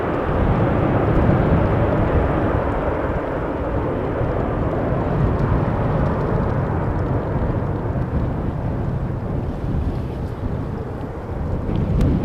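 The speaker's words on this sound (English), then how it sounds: "Roomboter landing, says Wendy." A plane lands on runway 18R at Amsterdam Schiphol Airport on a windy day, a loud, steady broadband roar that holds for the whole stretch with gusty wind buffeting the microphone.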